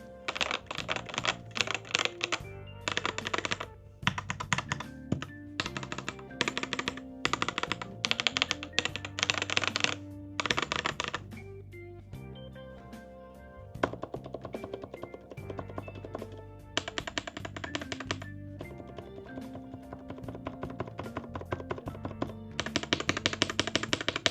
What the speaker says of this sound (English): the switches that are being used are hot swappable MX switches. They come with the speed silver. Personally, they're a little bit too loud.